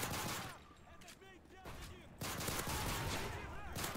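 Gunfire in Modern Warfare 3 survival co-op, with dense rapid automatic bursts and overlapping shots that crackle continuously at close range, mixed with game effects.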